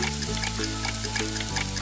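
An egg cracked into a hot pan fries with a steady, dense crackling hiss, close and even in level, with a faint low hum running underneath throughout.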